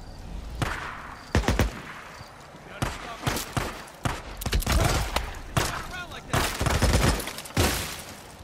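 Gunfire in the video game Days Gone: several loud, close shots and short bursts separated by brief pauses, mixed with someone talking between and over the shots.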